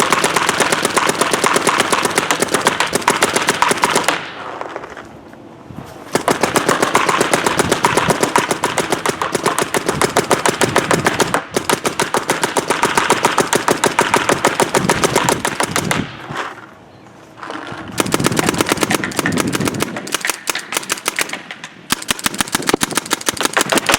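A Planet Eclipse Gtek M170r paintball gun fires in long, rapid bursts, a dense, loud, close stream of sharp pops broken by a few short pauses before firing resumes.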